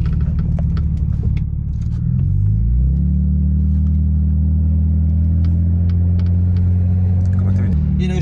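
A BMW E90 sedan being driven and then slowing to pull over, its engine rumbling low and close throughout while someone talks over it.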